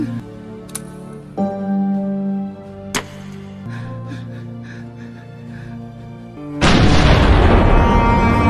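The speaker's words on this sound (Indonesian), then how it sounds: "Ia sengaja meledakkan diri ketika ia dikepung oleh para pemberontak." A loud explosion in an action film as a cornered captain blows himself up, a sudden roaring burst that follows tense, tonal score and ticking sounds and then sustains as a dense, heavy rumble.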